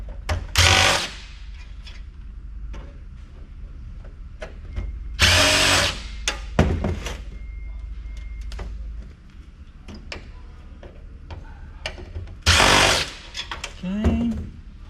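A power driver backs corroded screws out of an old computer case in several short, loud whirring bursts, with clicks and handling clatter in between and brief talk.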